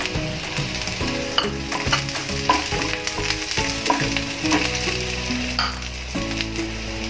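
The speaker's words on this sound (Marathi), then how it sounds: "तेल चांगलंच तापलंय. लसूण टाकूया. हिरवी मिरची," Garlic and green chillies fry in hot oil, a loud, steady close sizzle with occasional stirring scrapes and no talking.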